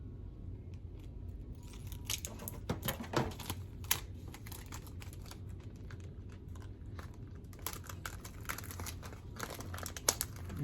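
Tape torn from a roll and pressed onto a plastic water bottle for winter sowing, a run of close, crackly crinkling and tearing bursts in uneven rhythm.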